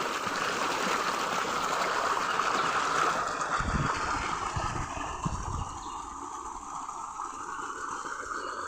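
Steady rushing water flows continuously from a pipe outlet in a village castor field, with a broad gushing texture and a few low thumps partway through.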